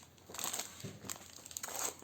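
Scrapbooking paper from a winter collection is handled close up, giving quiet crinkles and rustles in short bursts over a couple of seconds.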